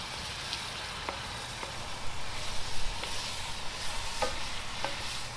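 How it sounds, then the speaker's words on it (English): Beef broth poured over sizzling peppers and onions in a pan on an open fire for bangers and mash gravy, a soft steady hiss and bubbling with a few faint clinks of stirring utensils. "So we're going to add in some beef broth"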